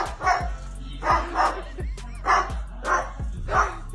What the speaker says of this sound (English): Why does this parrot bark just like a dog?